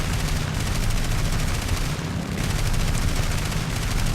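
Loud, sustained aircraft cannon and machine gun fire in War Thunder, an He 112 B-0, rapid rounds blending into a continuous roar, heavy low rumble underneath, no pauses throughout.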